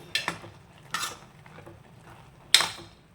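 A spoon stirs jaggery rice in a pot with the stove off, giving a few separate metallic scrapes and clinks spaced irregularly against near-silence.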